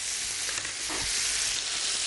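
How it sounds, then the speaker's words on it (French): A cumin mixture simmers and lightly sizzles in a pan, a steady close frying hiss with a faint stirring scrape partway through and no talking. "On va laisser ça mijoter comme ça."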